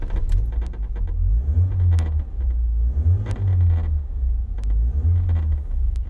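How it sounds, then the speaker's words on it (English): An 1980s Ford Escort Mk3 engine cranks and then runs close by, its deep rumble swelling and easing in repeated revs, punctuated by sharp clicks and key jangles. "So let's get this car started up and hear what she sounds like."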